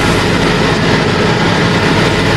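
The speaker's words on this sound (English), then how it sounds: "Here are some scenes and some sounds to remember of steam on the narrow gauge." A narrow gauge steam locomotive runs in South Africa, a loud, dense, continuous rumbling roar with heavy low-end and hissing noise throughout, close by and unbroken, with no speech.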